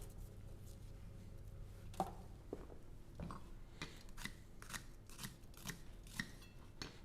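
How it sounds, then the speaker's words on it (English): A meat knife dices an onion on a board, producing a quiet series of crisp, uneven cuts and chops that grow quicker in the second half, close by and with no talk. "we're gonna dice it in small pieces"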